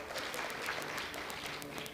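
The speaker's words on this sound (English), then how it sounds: "Mr. Tiga, if you can give him one more round of applause." An audience at a skills summit conference gives a short round of applause: steady, fairly faint clapping from many hands.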